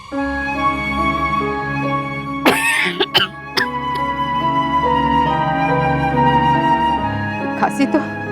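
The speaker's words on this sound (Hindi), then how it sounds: "खांसी तो मेरी जान लेकर जाएगी।" An ill mother coughs in a dramatized household scene: a few harsh, abrupt coughs in a cluster and another near the end, set against steady background music.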